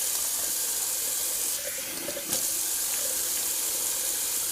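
A close bathroom tap runs cold water in a steady, unbroken splashing rush into a sink during a wet shave, with only slight dips in the flow.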